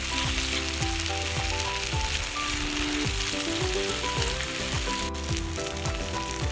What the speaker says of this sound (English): we need to stir fry this really well